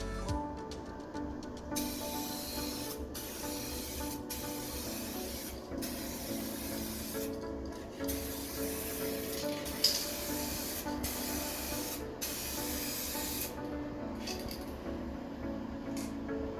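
Spray gun laying 2K clear coat onto a restored car headlight in medium coats, a steady close hiss with brief pauses between passes, no talking.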